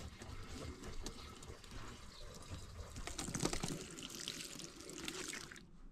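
Water poured from above onto a window ledge drips and splashes in a soft, continuous patter with scattered sharper drops, faint and close, with no talk.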